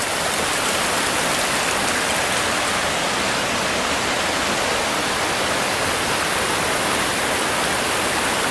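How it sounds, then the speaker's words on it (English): Steady, loud rush of a wide creek feeding into a river at a backcountry camp, continuous broadband water noise with no breaks and no talking. "We are by, actually it's a little more than a creek."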